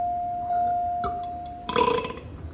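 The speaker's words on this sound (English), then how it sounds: "No, that's burp." A single loud burp erupts partway through, set against the steady hum of an Otis traction elevator at a hospital medical office building.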